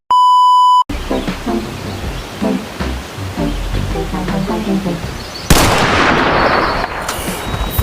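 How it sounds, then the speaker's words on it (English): Revolver shot landing a headshot in a video game, opening with a sharp electronic beep, then busy game noise and a loud burst of gunfire-like blast late in the sequence. "I think that was a headshot."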